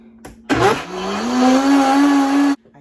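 A blender whirs loudly, mixing a batch of homemade almond milk, its motor starting abruptly, rising slightly in pitch and running steadily for about two seconds before stopping.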